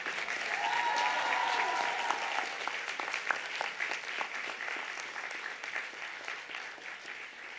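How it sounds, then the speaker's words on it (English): Raucous applause from graduates and guests at a university business school graduation ceremony, loudest at the start and easing slightly as it goes on, with a few whoops amid the steady clapping of a big hall. "A raucous round of applause."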